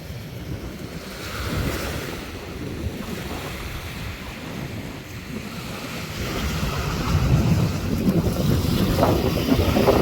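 Strong wind and breaking sea waves on Manila Bay, a continuous rushing surf roar with gusty wind noise that swells louder toward the end, no voices.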